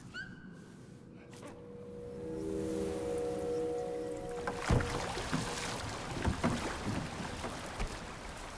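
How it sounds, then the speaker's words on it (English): Boat noises in the video game Jusant: creaking wood and a tonal hum fade into gentle water lapping and sloshing with soft knocks, fairly quiet and close. "Boat noises."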